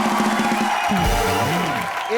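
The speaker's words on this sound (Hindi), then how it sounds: "जोरदार तालियां राधिका के लिए।" A studio audience at a televised comedy show claps and cheers for actress Radhika Apte receiving a mock award. The applause is dense and continuous, with whoops and voices rising over it.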